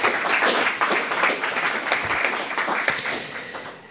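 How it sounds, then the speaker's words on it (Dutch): An audience at a history lecture event applauds as a professor is introduced, a dense, fairly loud burst of clapping that holds steady and then eases off. "Applaus."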